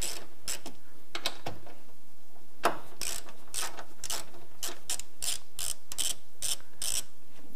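A ratchet loosens the 14mm top nut on a Subaru strut during a suspension install, sounding a series of sharp, close clicking bursts that come in quick strokes separated by short pauses.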